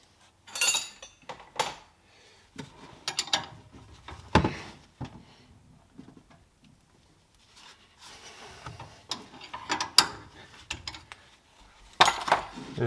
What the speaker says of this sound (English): here there is actually a screw to be removed. So let's do that.